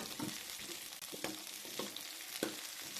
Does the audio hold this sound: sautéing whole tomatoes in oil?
yes